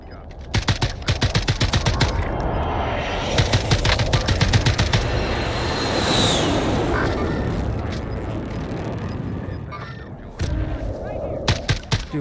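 Rapid gunfire from a video game weapon, bursts of automatic fire rattling in dense volleys with a long sustained roar through the middle, then sparser shots near the end.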